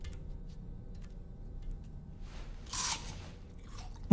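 A dry, crunchy apple being eaten in the video game Death Stranding 2: a single loud crunching bite sounds after a stretch of faint ticking and low hum, then chewing fades out.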